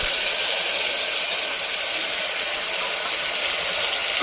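Chopped tomatoes hit hot oil already popping with mustard seeds and cumin, giving a loud, continuous hiss and sizzle heard up close with no talking.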